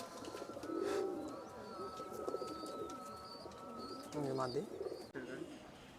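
Pure Ferozpuri pigeons cooing close by, soft throaty coos repeating in low rolling phrases over a bed of chirps and faint background birds; a person's voice is also heard among the calls.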